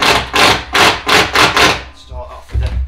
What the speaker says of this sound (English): Start off with a bit of a tap from the hammer.